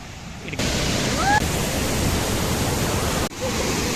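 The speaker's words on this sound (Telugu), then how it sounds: "water fall" Steady roar of rushing water, broad and continuous like a nearby waterfall, with a brief whistle-like tone early on and a short dip near the end.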